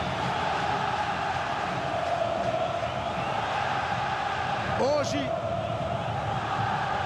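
Vasco supporters fill a stadium during a decisive Libertadores match against Corinthians, a steady, dense crowd roar running throughout beneath a commentator's voice, with a brief whistle-like rise near the middle.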